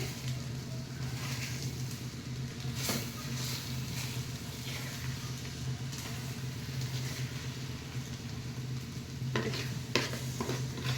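Steady sizzling of an egg mixture with drumstick leaves frying in a pan, with soft scraping as it is stirred and a couple of sharper clinks near the end.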